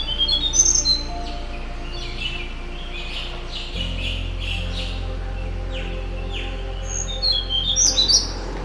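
A Tickell's blue flycatcher sings a high-pitched tinkling song of short, bright chirps and trills against a low steady hum, with a fainter bird calling in the background.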